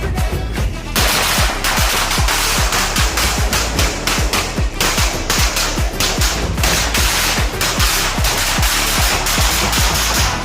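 A long string of firecrackers set off to celebrate an RCB IPL win, popping in a rapid, continuous loud crackle for the whole stretch, dense bangs without pause and no voices.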